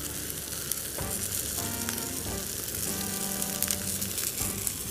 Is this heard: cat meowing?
no